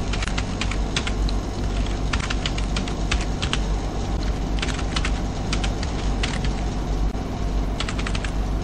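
Rapid typing on a computer keyboard, keys clicking in quick irregular bursts over a steady low background hum, close and continuous throughout.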